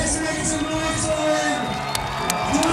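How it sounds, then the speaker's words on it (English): Crowd at a BMX freestyle park World Cup event in Osijek, Croatia, cheering and applauding loudly in a continuous roar with scattered whoops. "Crowd in Osijek giving him a huge round of applause."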